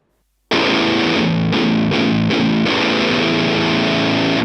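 Electric guitar driven through a Lichtlaerm Audio Medusa grinding death metal distortion pedal bursts in after a short silence, then rings out thick and saturated with a few choppy palm-muted re-attacks; loud and close, no talking.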